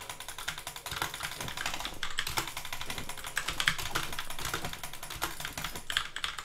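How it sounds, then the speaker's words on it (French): Rapid clattering keystrokes on a computer keyboard during a fast-paced video game, dense irregular taps and bursts close up, continuing without pause over a faint background. "je peux pas écrire sur ce putain de clavier"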